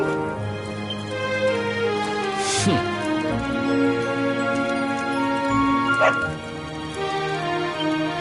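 Dog barks and whimpering yips from a Dragon Quest XI game scene, a few sharp calls rising over steady game music and ambience at moderate loudness.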